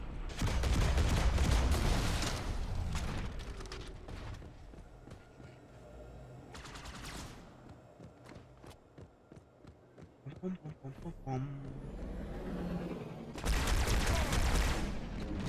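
Pump shotgun blasts in Halo 2, heavy booming bursts at the start, mid-clip and near the end amid dense combat noise, with scattered rattling shots in between.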